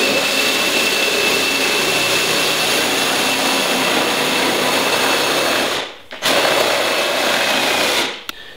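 A loud, steady motorized whine from the moving axis of a cheap homemade CNC machine, running continuously and alone, cutting out briefly near the end before resuming and stopping again.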